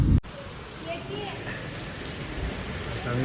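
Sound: rain falling around temple

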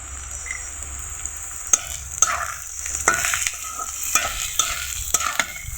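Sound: frying onion and green chili in pan

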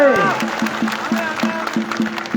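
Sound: crowd applauding

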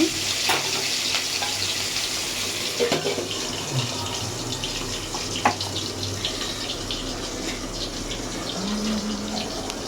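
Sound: potatoes frying in oil

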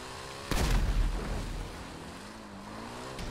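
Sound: explosives blowing up in a motorbike video game

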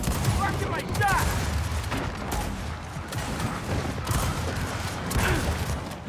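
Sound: gunfire in video game Gears of War 4

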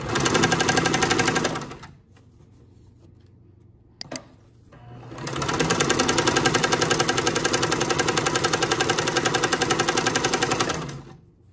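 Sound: Janome sewing machine stitching

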